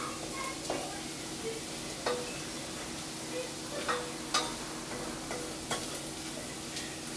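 A wooden spoon stirs fettuccine alfredo sauce in a pan over heat, making a soft continuous scraping with faint sizzling and several light knocks against the pan.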